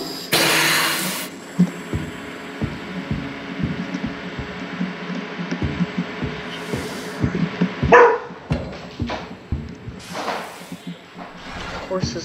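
A dog in the video game Monstrum gives a loud, sharp bark at the start and another burst later, between scattered footsteps and faint background noise.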